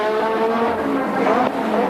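A 1986 Formula 1 car on a qualifying lap at the Australian Grand Prix, its high-pitched engine screaming loud and steady with rising and falling revs throughout, the tone shifting as it passes close by.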